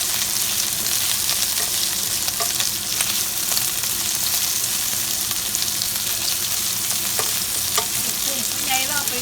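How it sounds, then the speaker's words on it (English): Prawns frying in a pan with a steady, close sizzle and crackle, occasional stirring clinks and scrapes throughout, no voices. "Cooking a little bit of prawns."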